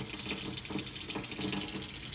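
Hot water pours steadily from a tap or container over golf grips being installed, a continuous close splashing rush with no talk.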